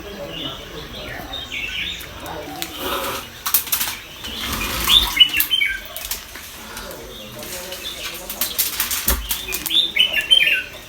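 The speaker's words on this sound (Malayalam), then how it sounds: "ഇപ്പോൾ ഇവിടെ കുറേ അധികം കിളിയുണ്ട് കേട്ടോ" Several birds chirp in short scattered bursts amid fluttering wings and rustling, fairly close, with faint voices murmuring now and then.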